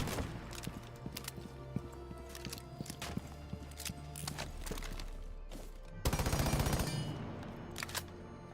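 Automatic gunfire from a rifle in the tactical shooter Rainbow Six Siege, loud sustained bursts of rapid shots with clattering mechanical detail, ending in a denser burst near the close.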